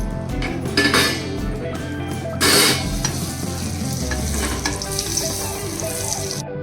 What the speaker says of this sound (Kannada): ಪಲಾವ್ ಎಲೆ ಹಾಕೋತಾ ಇದ್ದೀನಿ, ಲವಂಗ, 2 ಏಲಕ್ಕಿ ಹಾಕೋತಾ ಇದ್ದೀನಿ